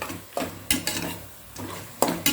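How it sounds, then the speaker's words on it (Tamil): Chicken sautés in a pan with onions and tomatoes for biryani as a spoon scrapes and stirs in a few bursts, with a low sizzle between strokes. "நல்லா வதக்கிக்கணும்"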